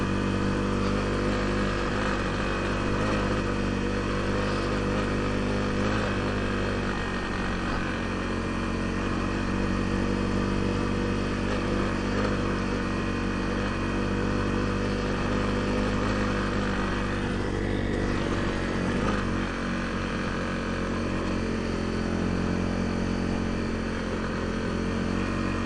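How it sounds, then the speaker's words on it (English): A small Honda dual-sport motorcycle labours on an Idaho ride, its engine droning loud and close for the whole stretch, the steady hum dipping and straining briefly near the end, with no voices over it. "the little Honda is struggling"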